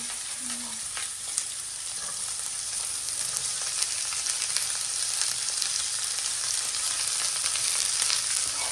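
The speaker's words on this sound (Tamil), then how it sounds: "இப்போ ஆமாம் வெங்காயம் போடுறேன் வெங்காயம் பச்சை மிளகாய் எல்லாம் அம்மா போடுறேன்" Onions and green chillies hit hot oil in a pan, already seasoned with cumin, and sizzle in a steady, bright, continuous crackle that stays close and even throughout, with no talking.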